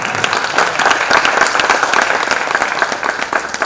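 An audience at a Marathi poetry-reading event applauds vigorously, dense, loud, steady clapping from many hands throughout, close and unbroken.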